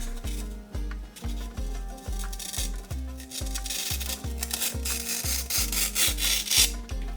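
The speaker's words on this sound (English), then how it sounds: "And I think I'm going to cut the edges off the corners here." Edges are sawn off the corners of a homemade Warhammer terrain wall piece in close, rhythmic back-and-forth strokes, roughly a dozen evenly spaced cuts with a rasping, woody scrape and no talk.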